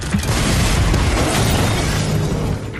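A museum blowing up in a TV drama scene: a dense, continuous roaring blast with rumbling low end and crackling debris, loud and sustained for a few seconds with no speech.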